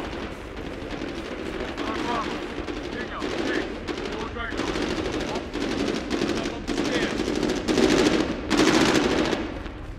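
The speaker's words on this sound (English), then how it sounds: "We provide covering fire." Sustained bursts of machine-gun covering fire in a Medal of Honor battle, loud and close, in repeated volleys over about ten seconds with no talk.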